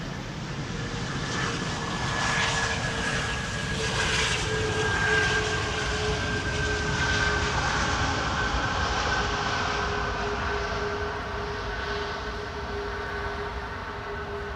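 An airliner lands on Amsterdam's Polderbaan runway 18R in windy weather, its thrust reversers spooling up into a loud, sustained jet roar with a rising whine. The roar holds steady throughout with no talk.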